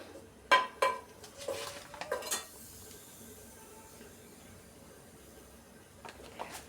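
Grated coconut tossed into a Kerala cheenachatti pan and stirred for roasting, with a few sharp metallic scrapes and clinks of the spoon at the start, then quieter faint stirring and a couple of late clinks.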